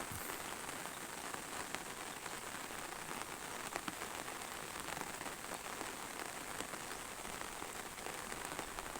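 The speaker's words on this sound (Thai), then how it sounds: "ฝนตกนะกกอก" Rain falls steadily over village rice fields, a dense, even hiss of drops on surfaces with no letup. It is moderately quiet and continuous, and no one speaks.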